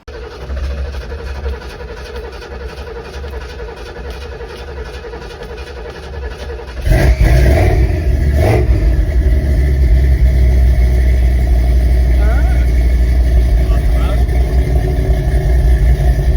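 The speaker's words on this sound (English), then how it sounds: "I'll be adding in a couple clips of getting this thing started for the first time, first drive, all that." An old Ford F-250 pickup truck from 1979 or 1985 cranks and fires abruptly partway through, then settles into a loud, steady rumbling idle with a few revs; a person talks over the engine.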